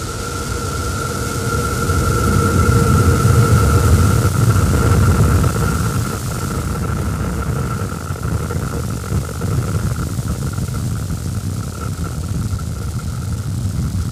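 SpaceX Starship rocket engines at liftoff on a test flight, a steady heavy roar with a low rumble that swells early and then holds, broad and loud, with no voices.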